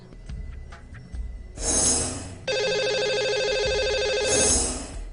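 A telephone rings as a radio show calls a listener. A short burst is followed by a long, loud warbling ring that runs for several seconds with no talk.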